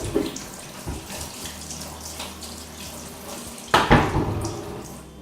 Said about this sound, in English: so as well as getting it wet again, I do need to give it a wash and a rinse